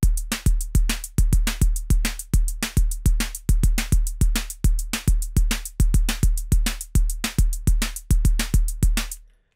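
Pocket Operator drum machine playing a chorus pattern: a steady, loud loop of punchy kick drums and crisp hi-hat or snare hits in a driving repeating rhythm, with no voices.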